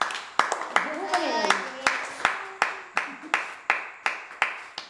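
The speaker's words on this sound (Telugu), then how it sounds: "claps claps claps" Hands clapping at a birthday party, a steady run of about fifteen sharp claps spaced roughly evenly, with a voice and other talk carrying underneath.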